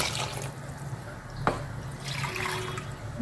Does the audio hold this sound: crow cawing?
no